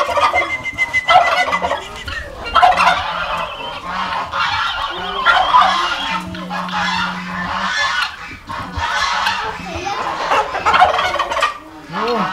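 A flock of Tajik turkeys gobbling loudly and repeatedly, overlapping calls close by with a busy barnyard din of geese, guinea fowl and other fowl on a farm.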